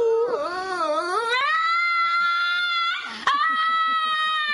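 A dog screaming like a human, loud, sustained wailing cries with rising and falling pitch, broken by a brief pause and then continuing in a steady, high, strained howl.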